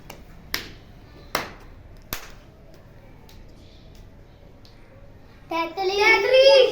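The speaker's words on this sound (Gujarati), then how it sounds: "પાંચ તાળી પાડી અને ચપટી કેટલી વાર વગાડી છ વાર" Three sharp snaps or claps sound close together, spaced under a second apart, in a children's counting game of claps and finger snaps in a school classroom, followed by a voice speaking.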